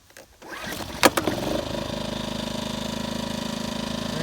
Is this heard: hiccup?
no